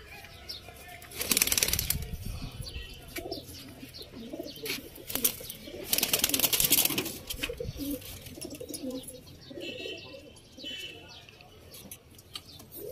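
An adult pigeon pair flaps its wings in two loud bursts and coos in low, repeated murmurs between them, recorded nearby.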